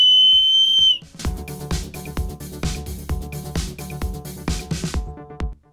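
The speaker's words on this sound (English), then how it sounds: "Here you can see me blowing the whistle." A small plastic whistle built into a paracord survival bracelet gives a shrill steady blast at the start, then stops, followed by a run of close clunks and knocks.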